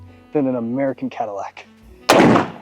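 Someone speaks briefly, then a single sharp rifle shot cracks out loudly, its noisy blast trailing off at the end.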